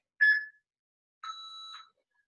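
A workout interval timer gives two clean electronic beeps: a short one, then a longer tone about a second later, alone against silence.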